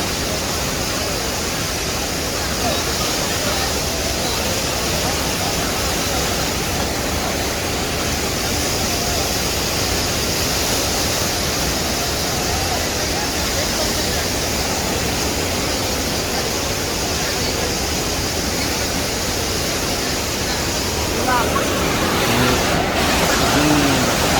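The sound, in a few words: floodwater flowing over Domukha dam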